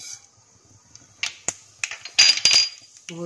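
Mustard seeds crackling in hot oil in a pan over a medium flame: a handful of sharp, close pops and crackles in quick bursts, with a voice starting to speak at the very end.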